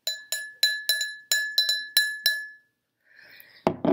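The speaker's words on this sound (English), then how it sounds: "You could use a cup and a pen." A pen taps a glass cup about nine times in a quick, uneven rhythm, each clear ringing clink decaying fast, followed by brief rustling and a knock.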